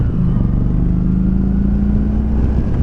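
Engine of a 2019 Kawasaki Vulcan Vaquero motorcycle pulling hard under acceleration, a loud steady low rumble with a rising drone, heard up close and continuous with no talking.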